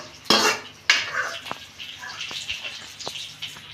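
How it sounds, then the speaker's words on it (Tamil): Ground spice paste for sambar is poured into a metal pot, with clattering knocks and scraping of utensils against the vessel, a couple of sharp clanks followed by lighter taps and soft liquid sloshing. "அரைச்சதை குழம்புல ஊற்றிடலாம்"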